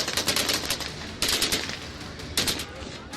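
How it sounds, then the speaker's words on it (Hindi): Repeated gunfire outside Kabul airport, loud bursts of several rapid shots spread over a few seconds, with crackling echoes and background noise between the volleys. "तालिबानी आतंकियों ने एयरपोर्ट के बाहर फायरिंग की"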